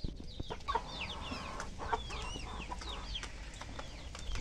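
Free-range hens cluck and chatter in a chorus of short, repeated calls, with a continuous rustle and light noise of farmyard activity around them.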